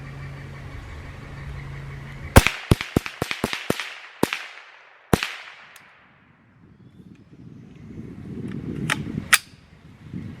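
A Glenfield Model 60 rifle fires ten rounds in a quick, fairly even string of sharp, loud cracks, each trailing off briefly, followed by quieter handling noise and a couple more faint clicks.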